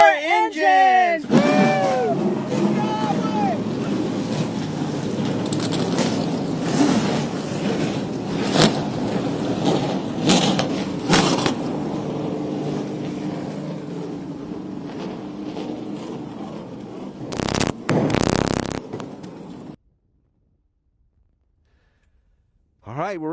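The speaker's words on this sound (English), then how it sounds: "Drivers, start your engines!" Trans Am TA2 race car engines fire up at Watkins Glen International, a dense roar of many engines revving together at close range, with an announcer speaking briefly at the start and loud bursts near the end.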